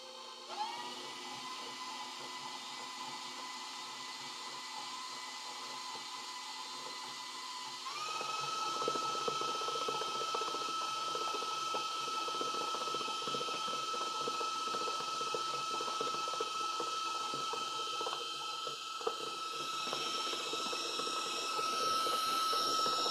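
An electric mixer whirs steadily while beating orange frosting, a high motor whine that steps up in pitch and volume after several seconds and keeps running evenly, fairly faint, with no talking.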